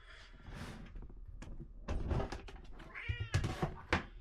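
Several cats meowing indoors, with repeated close meows and a few overlapping calls, mixed with soft thumps and shuffling noises from the room.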